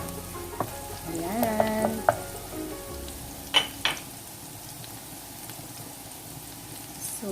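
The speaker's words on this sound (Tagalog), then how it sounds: "i-saute lang natin siya ng mga 2 minutes. Hanggang sa maging golden brown." Garlic sautéing in a pan for garlic buttered prawns gives a steady, close sizzle, interrupted by a few sharp clinks and scrapes of a utensil stirring, with a brief word spoken.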